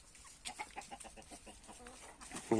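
A rooster clucks in short, quiet bursts at close range, ending with a sharper, louder call.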